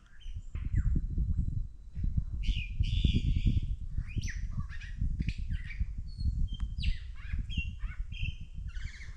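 Near the Ruined Castle campground in the Blue Mountains, a lyrebird runs through a fast, varied string of mimicked calls: sweeping whistles, chirps, squawks and rattling trills, close and clear above a low rumbling background.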